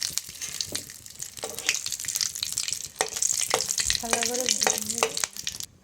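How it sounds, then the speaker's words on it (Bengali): Egg and whole spices for tempering, bay leaf, cardamom, clove and cinnamon, frying in hot oil: a steady close sizzle with scattered crackles and a few spatula scrapes, and no talking. "ডিমটা ভাজা হয়ে গেছে, এখন নামিয়ে নেব। ফোড়নে দেবো একটা তেজপাতা ছেড়ে দিয়েছি, একটা এলাচ, একটা লবঙ্গ, একটা দারচিনি দিয়ে দিয়েছি ফোড়নে।"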